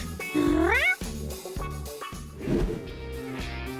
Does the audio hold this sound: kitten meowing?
yes